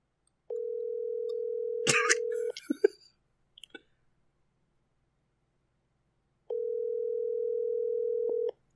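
A telephone call placed on speakerphone gives a steady ringback tone lasting about two seconds, then a few clicks and brief rustles, a pause, and the same steady tone again near the end; nobody speaks.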